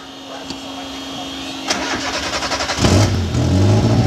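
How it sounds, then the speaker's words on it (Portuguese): A Fiat 147 Panorama cranks with a whirring starter, then catches and fires into a loud, rough idle with pulsing revs, close by, with voices talking over it. "Liga o carro"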